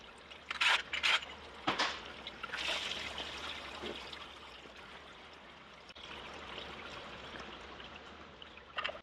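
Coolant draining from a Toyota V8 engine during a timing belt job, a faint trickling stream with a few louder splashy bursts early on.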